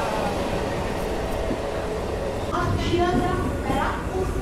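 A passenger train overtaking on the Howrah–Delhi line rumbles along steadily and fairly quietly, with a few brief tonal squeals and a person speaking over it.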